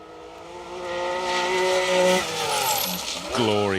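A Porsche 911 rally car with Ben and Steve Smith aboard runs a rally stage at the Plains Rally, its engine rising and falling through gear changes, loud and fairly close, with a commentator talking over it.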